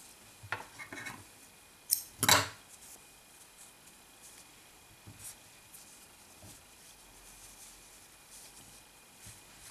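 Scissors cut crochet yarn in a couple of quick, crisp snips near the start, followed by quiet handling noises and faint room tone, with no talking.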